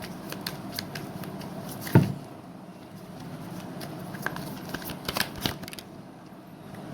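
Tarot cards shuffled by hand in a quiet room, a steady papery riffle with a sharp louder snap near two seconds and a few soft clicks toward the end, close and clear with no talking.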